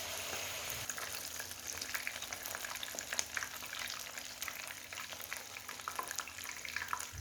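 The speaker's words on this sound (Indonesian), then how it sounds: "Goreng hingga matang." Stuffed tofu frying in hot oil, a steady close crackling sizzle with scattered sharp pops, continuous and alone with no talk.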